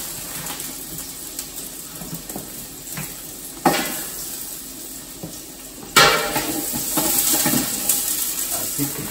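Chopped onion going into a hot pot for Siete Mares seafood soup, with sharp clatters of utensil against pot around four and six seconds, followed by a steady louder sizzle and light stirring noise.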